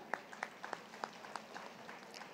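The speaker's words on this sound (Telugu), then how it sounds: "చప్పట్లు" Sparse, faint clapping from a small group, scattered individual claps spaced irregularly, fading out.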